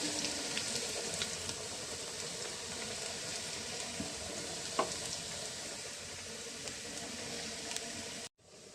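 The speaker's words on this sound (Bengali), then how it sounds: "তো পোলার চালটা ভাজতে শুরু করেছি।" Polao rice frying in a pan: a steady, close hiss of sizzling with occasional faint clicks of stirring, continuing evenly for about eight seconds and then cutting off abruptly.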